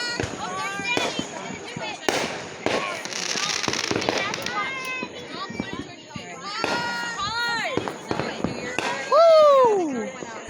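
Fourth of July fireworks pop and crackle repeatedly over excited voices and shouting, with a whistling rocket rising near the end.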